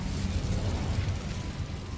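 Incendio fire spell cast in the Hogwarts Legacy video game: a loud, continuous low roaring whoosh of flame bursting out and rumbling steadily for two seconds with no talk.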